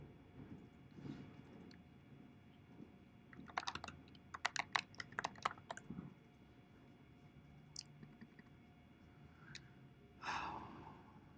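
Computer keyboard keys clatter in quick bursts as a command is typed into a terminal, with pauses between runs of clicks and faint breathing in a quiet room.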